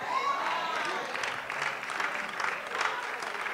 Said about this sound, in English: start clapping your hands and saying, thank you, Jesus